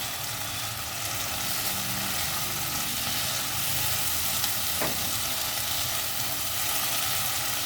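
Poppy seed paste and chilli paste sizzle and fry with prawns in a pan, a steady hissing bed broken by one short scrape of stirring, with no talking.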